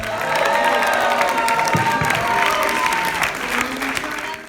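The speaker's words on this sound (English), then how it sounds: "Let's not forget to clap for Gigi and for Bruno" A crowd claps and cheers steadily throughout, dense applause with a few scattered shouts in a lively gathering during Paris Fashion Week.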